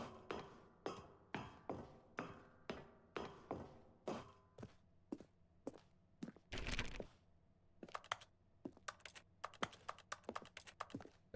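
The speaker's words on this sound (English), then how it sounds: "I still love the mouse clicking noises." Rapid clicks and taps from a computer mouse and keys during play of The Stanley Parable: Ultra Deluxe, a steady run of sharp, close transients at first, then scattered clicks with a brief broadband burst midway, no talking.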